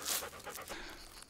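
A dog panting close by in quick, breathy puffs, a soft rhythmic huffing heard alone outdoors during a search for old mines at Pech Cardou.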